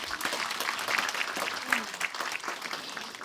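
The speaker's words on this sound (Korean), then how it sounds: "큰 박수 부탁드립니다" Sustained applause from an audience at an agricultural awards event, dense and steady clapping filling the whole stretch at moderate loudness.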